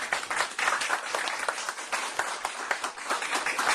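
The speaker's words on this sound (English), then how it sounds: "let's have a round of applause for our panelists" Steady, dense clapping from an audience applauding panelists at a session on applied courses, continuous and moderately loud throughout with no talking over it.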